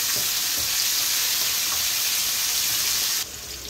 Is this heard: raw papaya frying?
yes